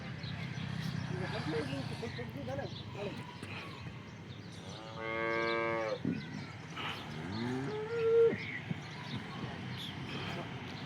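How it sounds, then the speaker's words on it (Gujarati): Local Banaskantha cows moo nearby, a long low bellow followed by a shorter rising call, with people talking around them in an open outdoor setting. "અને બનાસકાંઠાની લોકલ ગાયો છે"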